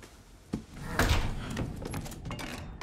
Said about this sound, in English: Why'd that door lock in front of me?